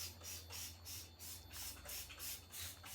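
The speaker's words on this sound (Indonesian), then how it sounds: "Terus ini aku semprot air biar debunya ke bawah semua" A spray bottle squirts water onto a glass table top in a steady series of quick hissing pumps, about three per second, quiet and close with no voices.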